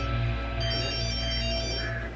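A phone ringtone plays in a drama scene, a steady electronic melody that is loud and close and fills the whole moment with no speech over it.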